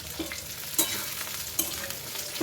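Potatoes fry in a pan for a vegetarian broccoli dish, giving a brief, close sizzle punctuated by two sharp spatula clinks, with no voices.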